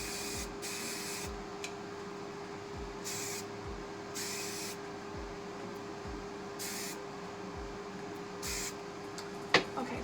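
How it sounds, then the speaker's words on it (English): Hairspray is spritzed onto hair in five short hissing bursts spread over ten seconds. Each burst is close and fairly soft, with quiet rustling between them. "I'm putting a little bit, like I said, a little bit of extra hairspray so it doesn't continue to expand"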